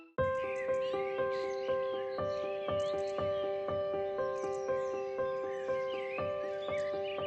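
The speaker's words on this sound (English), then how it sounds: "The sound of the birds woke Mr. Fox up." Repeated caws ring out from cartoon birds on a spring morning in an animated kids' story, evenly spaced calls layered over a bright, steady musical backing tone.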